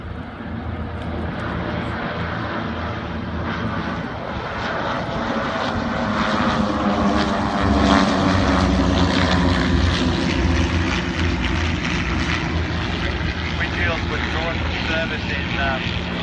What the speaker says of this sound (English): CT4 has just been pulled out there to do its solo performance.